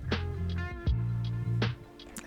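A bright future bass synth chord played on a MIDI keyboard for a kawaii-style track, held notes sliding between pitches in two short phrases with soft plucky attacks, clean and alone.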